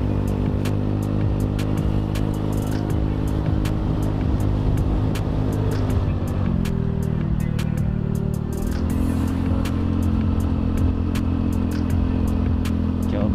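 A Honda Beat FI scooter accelerating on a road ride, its engine droning steadily and loud with a pitch shift partway through, over constant wind and road rumble and ticking clatter.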